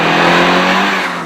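A 2002 Honda Civic SiR engine revs loudly and steadily up toward its red line, a close, sustained mechanical whine rising in pitch and fading slightly at the end.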